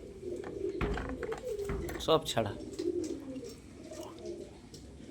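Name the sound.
pigeons cooing in a loft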